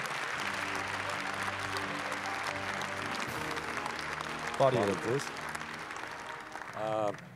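Sustained applause from an audience at the Tsitsernak national music awards ceremony, greeting a sculptor, designer and artist. The clapping is steady and fills the room, and a person begins speaking over it near the end.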